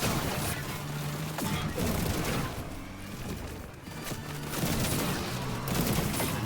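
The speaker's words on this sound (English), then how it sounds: "They love having their fun with these pistols while they're killing this bot" Rapid pistol fire in an online shooter as players gun down a bot, dense overlapping bursts of shots running continuously and loudly throughout.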